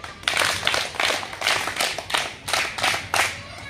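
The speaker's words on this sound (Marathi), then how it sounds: "3 टाळ्या." Hands clap in three quick bursts of three, nine sharp claps in a steady rhythm, close and fairly loud.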